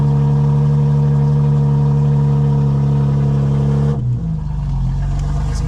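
A 2024 BMW M4 Competition xDrive in full sport settings and rear-wheel-drive mode holds a loud, steady engine drone close up, then drops in pitch and shifts character partway through.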